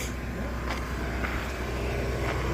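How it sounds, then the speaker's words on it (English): A fire department brush truck drives by at a public safety day, giving a steady engine and road rumble with faint clicks and knocks, and no talking. "And here's the brush truck."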